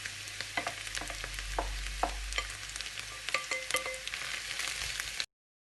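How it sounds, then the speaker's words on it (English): Spinach frying with golden garlic and onion in a pan, a continuous soft sizzle broken by utensil scrapes and stirring clicks, then an abrupt cut to silence. "So at this time, I'm going to add the spinach."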